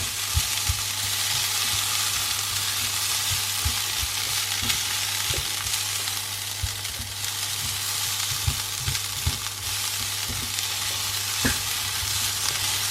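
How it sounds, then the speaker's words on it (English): Rice and meat warming in a pan hiss in a steady, close sizzle, with irregular scraping clicks of a spoon stirring them together and a constant low hum underneath. "Yes, let's warm this rice up."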